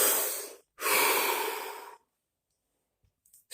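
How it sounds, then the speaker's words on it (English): During meditation, two deep breaths are drawn and let out, a short inhale followed by a longer airy exhale, close and soft, then quiet with a faint start of another breath at the end. "Deep breath."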